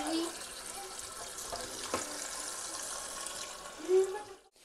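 Water pours steadily into a cooking pot for boiling potatoes in a home kitchen, a continuous close splashing rush lasting several seconds that stops abruptly at the end.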